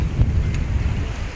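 Wind gusts buffet the microphone on a lakeshore with boats out on the water, a steady low rumble with no voices.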